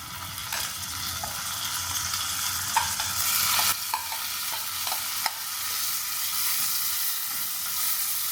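Tomato sizzles in a hot frying pan with golden-browned sardines for pasta, a steady hissing fry with occasional spoon clinks and stirring scrapes, close and moderately quiet, no talking.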